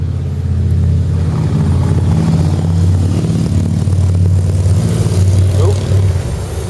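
A Harley-Davidson motorcycle rumbles past a tandem bicycle on the road, a steady low engine drone that swells as it goes by, with wind noise over it.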